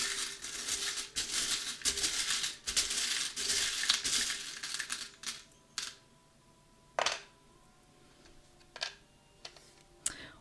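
Small metal charms are picked up and handled over a little black stand, giving light clinks and taps. A dense run of jingling comes first, then sparse, isolated clicks, all close and quiet with no talk.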